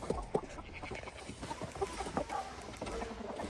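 Rooster clucking among farm fowl on a snowy morning, with short clucks and calls scattered through low barnyard rustling, moderately near but not loud.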